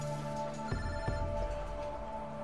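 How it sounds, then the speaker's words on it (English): Telephone rings during a meal, a steady electronic ringtone with sustained tones and a couple of sharp pulses, moderately loud over a low background hum. "During the meal, Moises gets a phone call"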